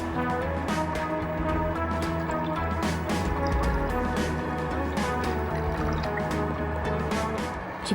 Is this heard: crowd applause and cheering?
no